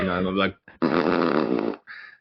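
A fart imitated by voice in a party guessing game: a person blows out a buzzing, flapping raspberry in several short bursts with one long central stretch, loud and close.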